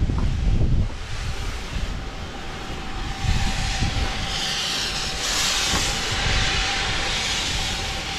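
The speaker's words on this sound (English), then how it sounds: "With a steam train you can see it breathing." Steam train hissing nearby on the North Yorkshire Moors Railway, broad rushing steam over low rumbling, with a faint steady tone and swelling bursts of hiss toward the middle.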